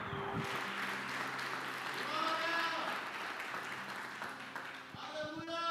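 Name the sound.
congregation applauding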